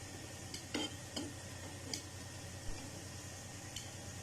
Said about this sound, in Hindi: अच्छा सा क्रिस्पी और होने तक और गोल्डन सा कलर आने तक हमने इन्हें फ्राई करना है।